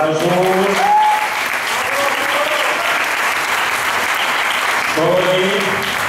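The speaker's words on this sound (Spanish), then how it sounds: "esta tarde son Jesús, fuerte aplauso para Jesús." A crowd claps loudly and steadily for a dancer at a Pilares festival performance in Puerto de Sagunto, Valencia, with a voice talking over the applause at the start and again near the end.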